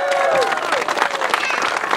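Audience applause at a retro motocross awards ceremony in Gulbene, a steady wash of clapping with some crowd noise, heard under a voice talking over it.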